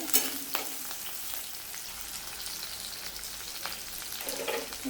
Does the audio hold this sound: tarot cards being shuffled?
no